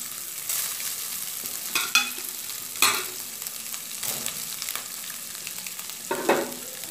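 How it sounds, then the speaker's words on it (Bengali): Cooked everyday rice being mixed into a pan with turmeric for lemon rice, a steady low sizzle under repeated scraping strokes of the spoon against the pan, with no talking. "ভাতটা দিয়ে দেওয়ার পর ভালো মতো মিশিয়ে দেব।"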